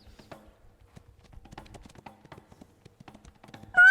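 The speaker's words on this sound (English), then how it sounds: "When you hit the jump start button, galloping and jumping." Horse galloping and jumping in a video game, a quiet run of clip-clop hoofbeats ending in a sudden loud, tonal burst.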